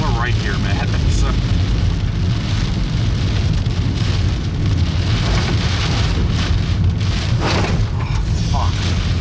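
Heavy rain pours down during a thunderstorm in the December 2018 Illinois tornado outbreak. It makes a loud, constant roar of drumming drops that fills the whole stretch, with faint voices in the background.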